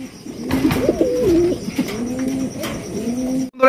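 A pair of chocolate-coloured King pigeons cooing close by, rolling low throaty coos repeating steadily for several seconds before a brief cutoff at the end.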